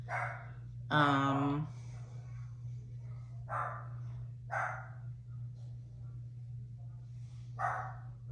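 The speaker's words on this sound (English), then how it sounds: "don't mind my doggies in the background. They literally bark at every little thing." Small pet dogs bark a few times in the background of a home makeup session, with short separated yaps over a steady low hum, fairly faint.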